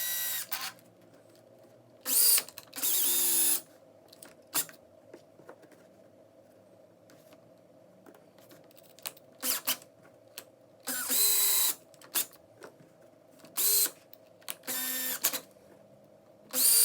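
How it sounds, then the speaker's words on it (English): A cordless power drill drives screws while a Team Associated B74 RC car is being built, sounding as short whirring bursts of a second or two, separated by quiet pauses and faint handling noises. "See, the drill makes that go by a lot faster."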